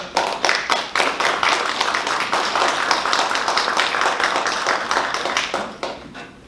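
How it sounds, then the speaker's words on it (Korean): Big, steady round of audience applause welcoming Kim Byung-joon, chair of the regional balanced development committee, to a university lecture hall; dense, close clapping runs throughout and fades slightly near the end. "자, 우리 김병준 위원장님을 직접 큰 박수로 모시도록 하겠습니다."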